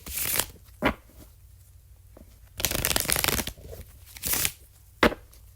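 Tarot cards are shuffled in bursts: several papery riffles and rustles split by short quiet gaps, close and fairly loud, with no one talking.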